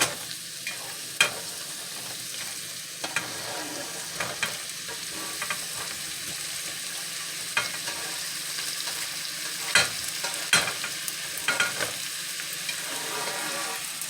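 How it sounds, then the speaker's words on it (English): Meat and bacon fry in a pan for a hash brown breakfast casserole, giving a steady broad sizzle with scattered sharp clicks and scrapes from stirring. No voices are present. "We're going to add all of the meat to the pan."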